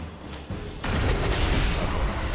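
Explosion during a Dark Souls boss fight, a deep booming blast that swells suddenly after a brief lower rumble and then sustains as a heavy roar to the end.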